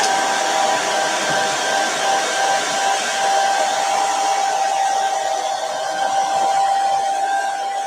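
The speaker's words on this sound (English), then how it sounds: "now I'm going to get my blow dryer and I'm going to dry it" Blow dryer drying chalk paste at a craft table, a steady close whir with a high whine running throughout, alone and without talk.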